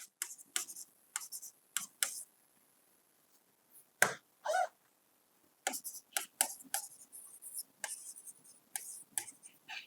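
Marker strokes squeak and scratch across a classroom board while a dining room is labeled on a coordinate diagram, coming as short bursts of scribbling separated by pauses, close and fairly clear, with no talking.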